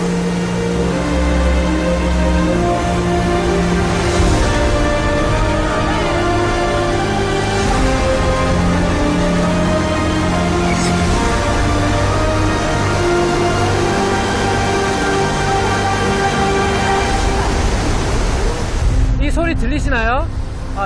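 Powerful, continuous roar of a waterfall in Kenya, broad and close, with a voice exclaiming over it near the end.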